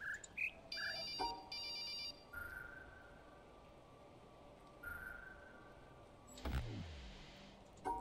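A phone ringtone in The Witness plays repeated short electronic tones in bursts, with long quiet gaps between them and a sliding tone near the end, all faint and with no talking.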